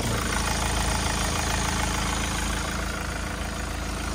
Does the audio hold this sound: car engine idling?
yes